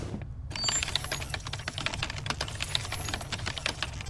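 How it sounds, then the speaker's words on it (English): Rapid keyboard clatter from a typing animation in the video game Tales from the Borderlands, dense quick keystrokes with a few faint chimes, starting after a brief silence and running steadily to the end. "This is typing animation."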